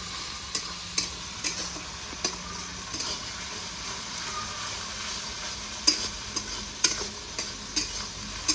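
Ginger-garlic paste frying with golden-brown onions in a pan for a raw-mango chicken dish, a continuous sizzle broken by regular scraping clicks of a spatula stirring, no voices.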